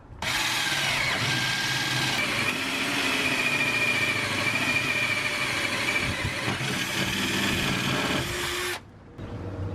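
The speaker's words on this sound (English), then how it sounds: "now I need to drill this other hole here" A power drill whirs loudly and steadily at high speed for several seconds, grinding through a cargo trailer floor, then cuts off abruptly.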